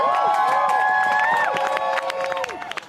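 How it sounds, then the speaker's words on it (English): Community groups and supporters cheer at a rally outside Winnipeg City Hall, a dense crowd roar with whoops and scattered clapping that stays strong before thinning out toward the end. "That's the sound of community groups and their supporters cheering as the city announces a delay on a decision to"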